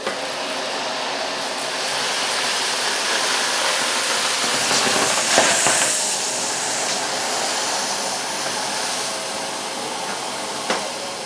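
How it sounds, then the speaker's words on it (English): A Vax Air Silence cylinder vacuum cleaner with its standard carpet and floor nozzle roars in a steady, loud hiss as it passes back and forth over a lino floor, with faint knocks of the nozzle. "Just going to pass the standard carpet and floor nozzle back and forth through the other side"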